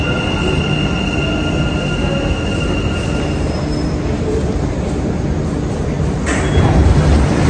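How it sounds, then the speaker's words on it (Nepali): A Dubai Metro train bound for Expo 2020 rumbles steadily close by, its wheels squealing against the rails, with the noise swelling louder near the end as it pulls in. "अहिले चाहिँ यो एक्सपो 2020 जाने मेट्रो आएको छ"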